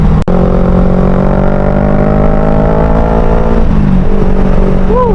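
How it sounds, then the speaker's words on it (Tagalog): Motorcycle ride through a cool area near Aglipay Cave, a steady engine drone with shifting pitch held close and loud throughout, with a brief thump near the start and rising rev tones toward the end. "napakasarap magmotor dito sa part na to"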